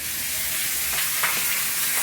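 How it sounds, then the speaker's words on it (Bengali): Fish frying in hot oil, a steady broadband sizzle that holds for about two seconds with a few brief crackling pops, close and fairly loud, with no voices. "এই মাছ ভাজাটা করবো বাস,"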